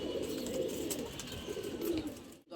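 Domestic pigeons kept at a farmer's house coo softly and close by. Their low, rolling calls overlap continuously for a couple of seconds before a brief drop-out.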